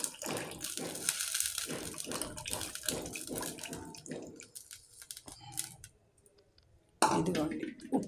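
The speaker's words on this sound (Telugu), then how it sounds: "ఆ వాటర్ పోసేస్తున్నానండి" Soaking water from millets is poured into a pot for samalu upma, a near splashing pour with clicks, then a pause and another short splash, with a voice talking over it.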